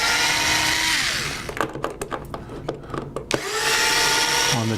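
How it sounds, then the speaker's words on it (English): Screws are backed out of embedded screw bosses inside a boat pontoon with a power driver: a steady whirring runs, breaks into a string of sharp clicks and ratchets, then the whir resumes, close and fairly loud. "And then you remove the screws"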